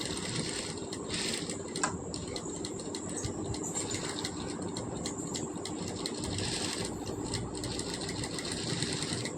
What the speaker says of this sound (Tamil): இந்த மாதிரி பொறுமையாக தைக்கணுங்க